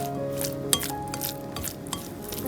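Chopsticks stir an onion filling around a bowl, soft scraping and light clicks against the bowl with one sharper clink, over a steady low background hum.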